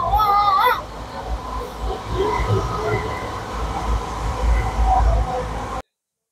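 Maa Tara Express passenger train between Kolkata and Tarapith, halted in the yard just before Naihati: a steady low rumble fills the carriage, with faint voices and children's chatter in the background.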